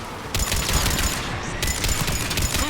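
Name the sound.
gun turret firing in video game Mass Effect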